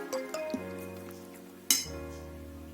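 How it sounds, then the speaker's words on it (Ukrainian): A few light clinks of a utensil against a bowl while stirring grated potato pancake mixture with salt and pepper, with ringing tones in between, close and quiet. "Все це перемішуємо"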